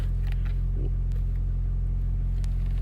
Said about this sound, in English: I do have the truck running